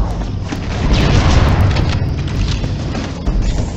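Engine reactors explode in a sci-fi video game, a heavy, booming blast that swells and rumbles for several seconds with crackling debris and smaller secondary bursts, no voices over it.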